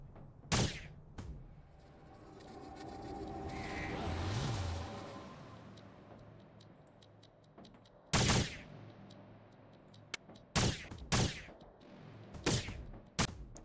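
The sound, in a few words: gunfire from an enemy in a Saturn RPG video game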